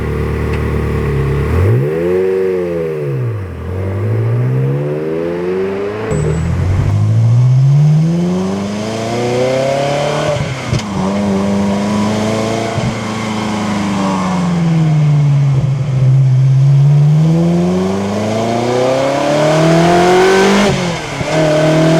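A Ferrari 360 Spider's engine revs hard while driving, loud and close, climbing repeatedly through the rev range with rising and falling pitch sweeps and brief dips between pulls as gears change.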